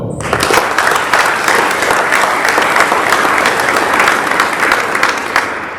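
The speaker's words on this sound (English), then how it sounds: "Let's give one more round of applause for all of our quarterly winners." Loud, sustained audience applause for quarterly award winners at an Air Force wing commander's call, dense clapping from a sizable crowd that holds steady throughout with no talk over it.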